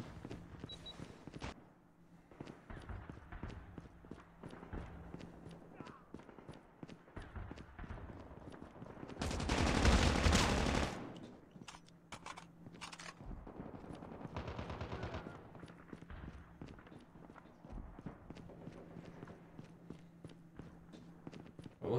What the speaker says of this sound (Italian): Ho sentito sparare da sinistra.